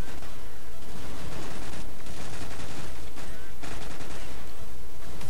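Dense, loud bursts of automatic gunfire in the Counter-Strike video game run almost continuously with brief gaps, close and saturated, with a voice faintly underneath.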